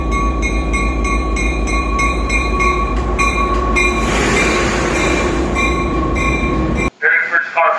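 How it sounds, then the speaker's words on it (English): A train pulls into a San Jose station, a loud steady rumble with ringing rail tones and rhythmic wheel clacks, a burst of hissing noise midway, then it cuts off abruptly near the end. "I gotta wait for half an hour for the train."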